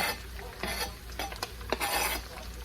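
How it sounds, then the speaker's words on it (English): Mushrooms sizzle in a hot pan as a utensil stirs them, brief scraping strokes and metallic clinks breaking over a steady frying hiss, close and alone without voices. "I'm going to take this off the burner also and just mix it up."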